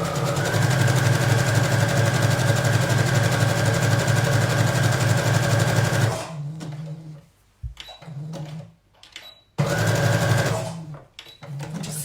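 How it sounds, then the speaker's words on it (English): A sewing machine stitches a jersey skirt seam, running in a loud, fast, steady whir for about six seconds, then stopping with small clicks before a short second burst of stitching. "I'm going to start my 3 securing stitches forwards"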